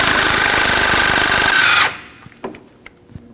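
A power tool with a 19mm socket hammers a rear lower forward control arm alignment bolt home on a 2016-2020 Kia Sorento. The close, rapid, loud rattling burst lasts almost two seconds, then stops, followed by a few light clanks.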